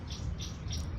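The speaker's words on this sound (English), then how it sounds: "You have to excuse the birds." Birds chirp faintly outdoors, three short high twitters spaced evenly over a low rumbling background.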